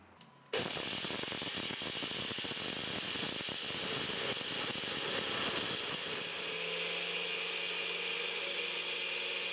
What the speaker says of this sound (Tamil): ஒரு மிக்சி ஜாரில் சேர்த்து இதை ரெண்டு மூணு தடவையாக பொடிச்செடுக்கலாம்